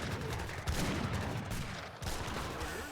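Continuous crackling Gatling gun fire from the strategy game Age of Empires 3, a dense steady rattle of shots with a brief dip near the two-second mark, moderately quiet throughout.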